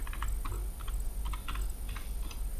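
Program names being typed on a computer keyboard, a steady run of light key clicks in quick irregular bursts, close and clear over a low background hum, with no talking.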